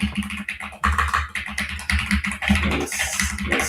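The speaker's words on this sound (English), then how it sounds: "Just gonna quickly type this out again." Rapid typing on a computer keyboard, close and clear, with bursts of quick key taps and brief pauses.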